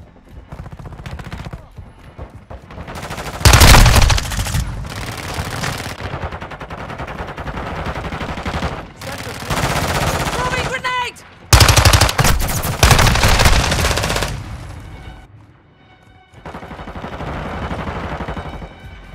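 Rapid automatic gunfire and bursts of shooting in a Call of Duty: Modern Warfare II team deathmatch, loud and close, with heavy volleys separated by brief lulls and game sound effects throughout.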